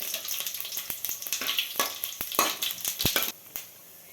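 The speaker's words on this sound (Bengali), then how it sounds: "এবার দিয়ে দেবো 5 ফোড়ন।" Five-spice seeds and two dried red chillies hit hot oil in a pan for achari begun, crackling and popping in quick bursts with sharp spits, close by, then fading to a quieter hiss, with no voices.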